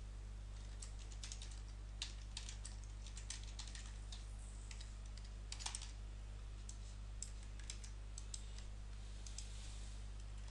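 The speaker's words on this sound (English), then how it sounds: "I'm going to type some content here." Steady typing on a computer keyboard, soft irregular key clicks in quick bursts over a constant low electrical hum.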